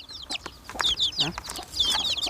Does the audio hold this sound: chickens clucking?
yes